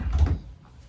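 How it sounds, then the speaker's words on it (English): A door closes on a pulmonary function test booth in a clinic, giving one short, soft thud close by with no talk. "Close the door"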